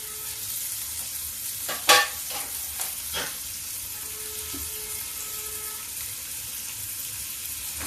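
Onion, red chili and ginger frying in a pan for an aubergine, bottle gourd and potato dish, giving a steady close sizzle with a few sharp clatters of stirring near the start.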